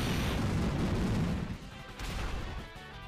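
The Pokémon move Explosion in Pokémon Alpha Sapphire sounds as a loud, dense rumbling blast that fills the first half, dips briefly, then swells again before fading.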